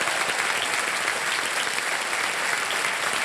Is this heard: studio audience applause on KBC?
yes